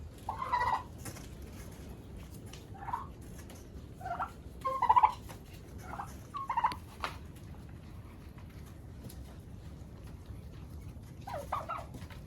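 Turkeys in a farmyard give a handful of short, faint gobbling bursts, spaced irregularly across the stretch with quiet pauses between them.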